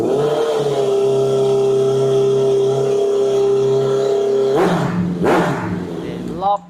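A 2016 Honda CBR650F with a titanium slip-on exhaust idles steadily and close by, then gives two sharp throttle blips that rise and fall before settling back, with a brief rising rev at the end.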